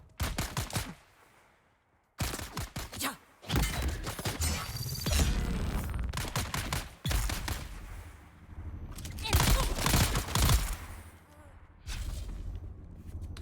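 Rapid gunfire rattles in dense automatic bursts during a firefight in a video game set on the desert planet Arrakis, with loud volleys broken by short gaps and a voice talking at times.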